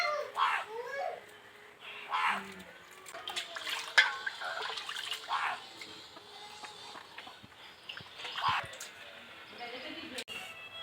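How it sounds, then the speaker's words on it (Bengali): Rohu fish being rinsed by hand in water: intermittent splashes and sloshing bursts near at hand, with a voice murmuring in the background. "মাছটাকে খুব ভালো করে পরিষ্কার করে ধুয়ে নিতে হবে"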